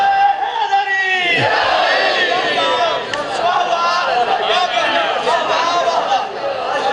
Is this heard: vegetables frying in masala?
no